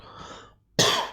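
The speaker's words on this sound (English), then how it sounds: "Don't know why I'm coughing." A single sharp cough sounds close by, following a brief faint throat noise, from a person in an indoor lecture setting.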